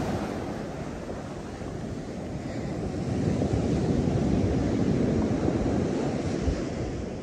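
Sea waves washing onto the rocky coast at Ky Anh, Ha Tinh, a steady loud roar of surf mixed with wind buffeting the microphone, swelling slightly stronger midway and continuing throughout.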